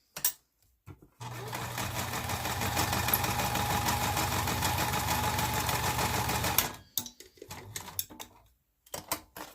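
A sewing machine runs a steady, close, rapid stitching burst of about five seconds while stitching paper pockets for a file folder journal, preceded and followed by brief clicks and handling sounds.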